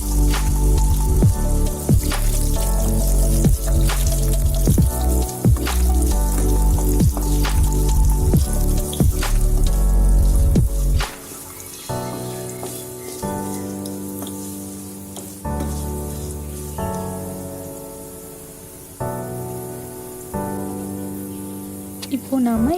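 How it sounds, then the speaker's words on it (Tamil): Dried red chillies hit hot oil for Chettinad chicken chukka, giving a loud, dense crackling sizzle with sharp pops for about ten seconds before settling into a quieter, steadier frying hiss. "இப்போ காஞ்ச மிளகாய் போட்டுக்கலாம்."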